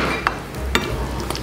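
Pork cracklings fry in hot oil in a home kitchen, giving a steady broadband crackle and hiss with a few louder pops and stirring clatters, close and without talk.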